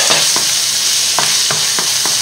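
Carrots for veal paupiettes sizzle loudly and steadily in a pan while a utensil stirs them in several quick scraping strokes, close up with no voices.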